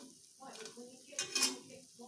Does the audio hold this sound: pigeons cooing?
no